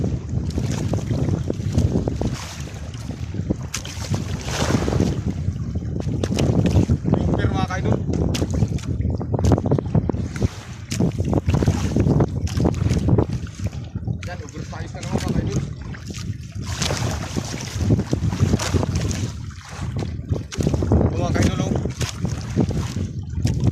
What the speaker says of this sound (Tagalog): Kasi grabe ang lakas ng hangin talaga.